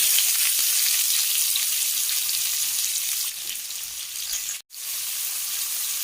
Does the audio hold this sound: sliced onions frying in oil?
yes